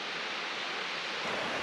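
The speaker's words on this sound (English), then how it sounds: "there's the falls" Waterfall at the end of a forest track in a state forest, a steady broadband rush of falling water heard from nearby, fairly soft and even with no voices.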